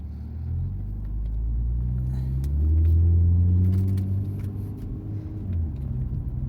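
A car accelerating on a test drive: steady low cabin rumble swelling as engine tone rises in pitch through the middle, then easing, heard from inside with faint rattles.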